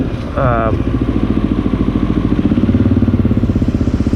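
A Honda XR650L running without its exhaust silencer tip puts out a loud, close, steady, rapidly pulsing thump, with a brief rising rev near the start.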